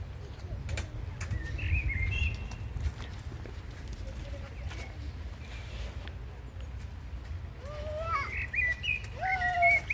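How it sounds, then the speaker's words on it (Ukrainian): Birds chirp and trill in short bursts over a low rumbling background, with a cluster of brighter calls toward the end. "Пташки співають."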